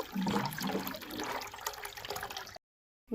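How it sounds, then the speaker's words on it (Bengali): Water runs into a saucepan from a tap in a home kitchen, a steady rushing pour for a few seconds that stops abruptly, then silence. "এই সসপ্যানটা পুরো ভর্তি করে নেব"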